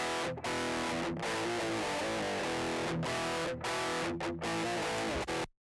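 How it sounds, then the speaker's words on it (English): Dry electric guitar played through a TSE 808 overdrive and Ignite Emissary amp with no cabinet simulation, giving a harsh, fizzy distorted tone; loud sustained chords with brief gaps between strums, alone without talk. "we are just going to play this dry guitar sound through the"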